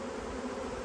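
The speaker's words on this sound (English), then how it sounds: "Still lots of bees in the air." Swarming honeybees fill the air with a steady, dense buzzing hum, close and continuous, many wings droning together outdoors with no voices.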